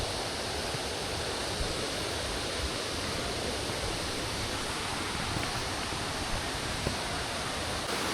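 Cedar Falls in Bukidnon sends out a constant, even rush of falling water, a broad unbroken roar heard from a short way off with no voices over it.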